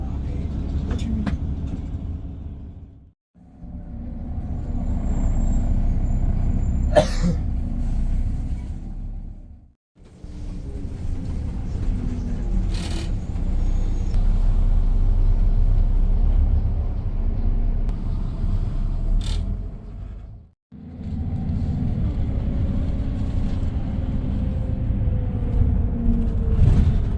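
Bus engine running near a bus station, a steady low rumble from an ex-Yorkshire Coastliner bus with brief drops in sound between stretches of continuous droning, heard close up.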